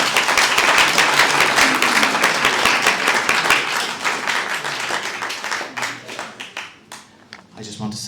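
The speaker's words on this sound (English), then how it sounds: "Give him a round of applause." Crowd applause at a book launch in a function room of the Farnham Arms Hotel: dense clapping from many hands fills the room, then thins out and fades toward the end as a voice begins to speak.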